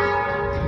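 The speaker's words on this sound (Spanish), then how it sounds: "solo acá en los pueblitos se escucha el sonido de las campanas originales, que no sea grabación" Church bells of the San Pedro Nonualco parish ring out in a small town, a brief sustained metallic tone with clear ringing overtones, moderately loud and alone.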